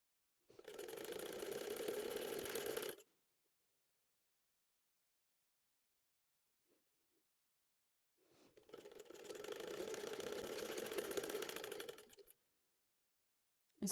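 Sewing machine stitching a pocket onto ladies' pants, running in two steady bursts of about two and a half and four seconds, separated by a quiet pause with a couple of faint clicks.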